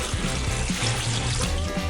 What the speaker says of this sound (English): I'm gonna pour some water in there.